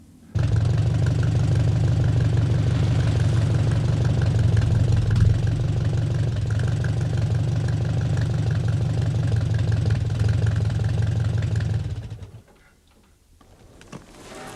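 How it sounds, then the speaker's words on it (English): An old tractor engine idles loudly on a Dartmoor farm with a steady low chugging rhythm for several seconds, then cuts out, leaving quieter background noise. "I suppose you think this is an old-fashioned tractor"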